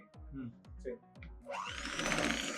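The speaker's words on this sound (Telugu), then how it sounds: "మనం బ్లెండ్ చేసుకోవాలి" A kitchen blender whirs up to a loud, steady whine as it mixes cream cheese and sugar for tiramisu. A person speaks over soft thumps just before the motor starts.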